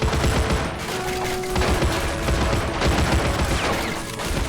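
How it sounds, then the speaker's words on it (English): Lewis machine gun fire in the Army Men of War video game: dense, sustained bursts of rapid gunfire blend into a continuous battlefield roar with no gaps, loud and close throughout. "Lewis machine guns."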